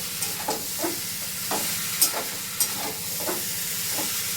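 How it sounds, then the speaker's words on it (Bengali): Taro fries with spices in a pan, giving a soft, continuous sizzle. Regular scraping strokes of stirring sound throughout, with a couple of sharper clinks. "মশলার সঙ্গে একটু কষিয়ে নিই, তারপরে জল দিয়ে দেব।"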